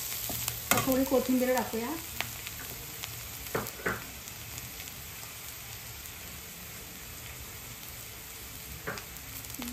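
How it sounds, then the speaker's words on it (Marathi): Chopped vegetables for veg manchurian are stirred and sautéed in a pan, a soft continuous sizzle with occasional scraping strokes, while someone speaks briefly at the start. "आणि आता चांगले परतून घेऊया."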